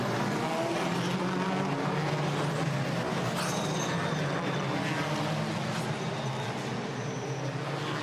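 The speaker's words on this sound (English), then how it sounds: "Cars heading off" A pack of WTCR touring race cars rolls away on the formation lap of Race 2 in the Netherlands, their engines a steady, dense roar that stays loud and unbroken throughout.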